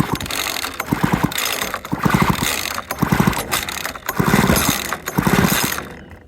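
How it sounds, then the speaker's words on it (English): A seized Husqvarna 141 chainsaw engine being pulled over by its starter, giving a repeated rhythmic mechanical whirring and clattering in several pulls, close and fairly loud with no talking. "it's spinning over fine. It's not making any unusual noises that I can hear."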